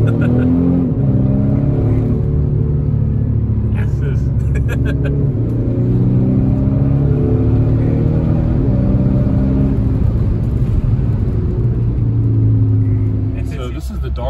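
A tuned Audi with an imported downpipe roars steadily under hard acceleration, a loud low engine drone close up throughout, with people talking over it.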